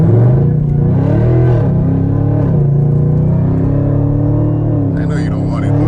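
A supercharged Camaro ZL1 on a highway at speed, its engine whine droning loudly and sliding up and down in pitch, with a voice talking over it.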